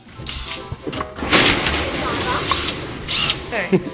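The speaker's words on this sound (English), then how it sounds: "I can give you a power tool at this point." A power tool whirs and ratchets in short bursts on a car wheel during a tyre change, close and loud, with clanks of metal between runs and a voice talking over it.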